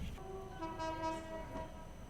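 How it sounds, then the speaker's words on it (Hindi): An Indian train, the Chandigarh-Bandra express, overtakes on the rail line. It sounds as a steady rumbling roar with a sustained horn-like tonal blare over it, close and continuous throughout. "चंडीगढ़ बांद्रा ओवरटेक करी अपने को।"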